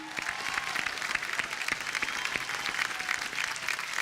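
Studio audience at an Antakshari League music reality show breaks into sustained, dense applause, steady and loud for the whole stretch with no voices over it.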